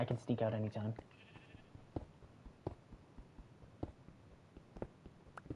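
Sheep in Minecraft give a few short, quiet bleats, spaced apart, after a voice at the start.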